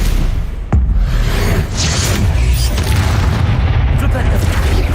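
A Bombarda spell exploding in Hogwarts Legacy, one loud close blast followed by a continuous heavy roar of rumble and debris that fills the whole stretch.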